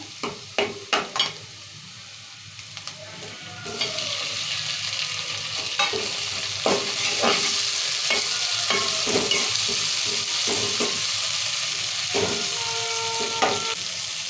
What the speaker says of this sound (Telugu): ఇప్పుడు టమాటాలు వేసుకున్నాము